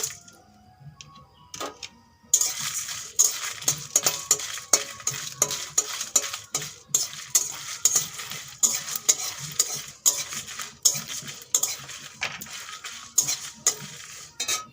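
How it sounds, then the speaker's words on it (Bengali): Rhythmic scraping of a spatula stirring whole spices around a hot dry pan, quick repeated strokes close by with a light crackle underneath. "এগুলো আমি শুকনো খোলায় ভেজে নেব"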